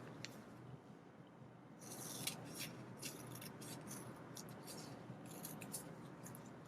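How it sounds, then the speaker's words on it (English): Scissors snip a small piece from the middle of a strip of athletic wrist tape, several close, crisp cutting strokes starting near two seconds over a quiet room background, with no talking. "we're going to cut just a little bit out of the middle"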